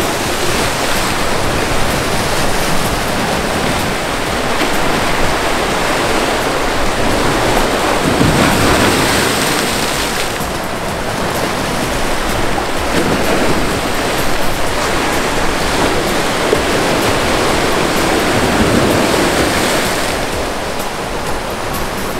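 Strong sea waves crash continuously on a rocky shore by a sea dike at Tân Thành, Tiền Giang, a loud, dense roar of surf with swelling surges and no speech over it.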